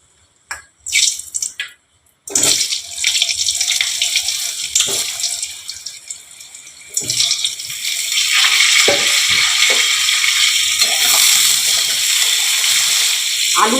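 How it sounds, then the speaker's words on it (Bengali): Boiled potatoes go into hot oil with turmeric and fry with a loud, steady, hissing sizzle that starts abruptly after a few brief knocks and keeps going without pause. "এই যে আলুগুলো সেদ্ধ করে নিয়েছি, এগুলোকে এখন ভাজবো।"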